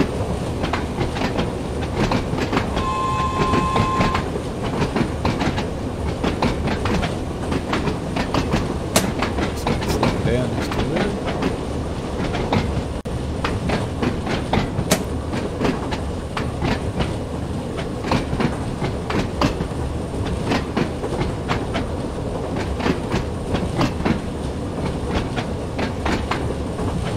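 A train runs on the Isle of Wight line in the video game Train Sim World 2, with a continuous rumble and rhythmic clicking of wheels over the rails, while a voice talks over it.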